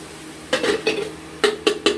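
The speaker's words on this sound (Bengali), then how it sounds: "জল দিয়ে নাড়াচাড়া করে আমরা একটা ঢাকনা দিয়ে ঢেকে দেব।" Fish curry of bam eel and potatoes being stirred in a pot with water, then covered with a lid: a few sharp metallic clanks and scrapes, spaced out and close, with quiet gaps between.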